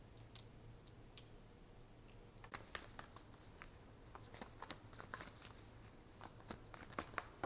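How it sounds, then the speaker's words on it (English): Tarot cards being shuffled and sorted by hand, a soft run of quick papery flicks and ticks that starts faint and grows denser and closer over the second half, with no talking. "Excuse me while I organize these cards."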